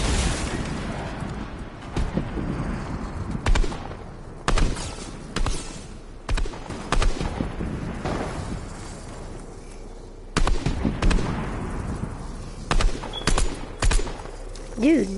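Scattered volleys of gunfire in a zombies shooter video game crack out in short separated bursts, loud and close, with a voice talking between shots.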